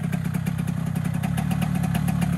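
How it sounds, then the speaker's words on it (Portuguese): A two-stroke motorcycle engine runs close by, giving a fast, rattling, pulsing putter that holds steady throughout. "o motor dessa moto, ela funciona com... Ela é dois tempos, né?"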